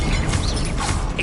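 A Revelio revealing spell effect from Hogwarts Legacy, a short, loud shimmering and creaking mechanical whoosh with bright tonal sweeps, heard alone with no talking.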